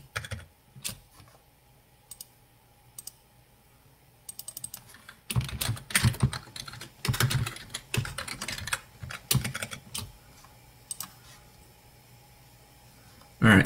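Someone types a password on a computer keyboard in short, quiet clusters of key clicks, then faster, louder bursts of keystrokes, with brief pauses between groups.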